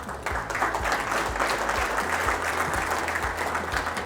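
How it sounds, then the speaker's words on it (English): Audience applause fills a conference hall at an industry XR event, steady dense clapping from a large crowd sustained throughout, with a low hum beneath. "let's give them a big round of applause"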